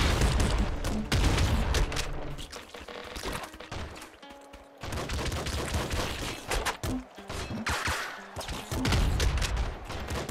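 Rapid pistol fire in the video game Nuclear Throne, a string of sharp cracking shots and thuds with a short lull midway before the firing resumes.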